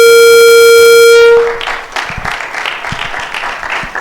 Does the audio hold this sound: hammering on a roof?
no